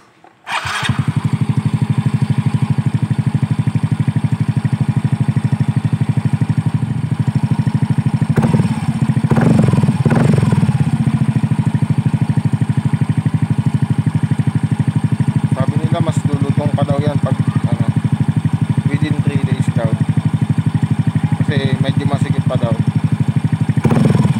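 Motorcycle fitted with a Kalkal Evo 5 aftermarket exhaust pipe starting up and idling, a loud, steady low rumble close by with a few revs and clatter, and voices talking over it.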